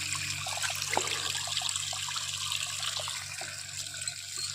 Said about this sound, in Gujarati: જો અહીંયા પાણી આવે છે કેટલું મારું પડ્યું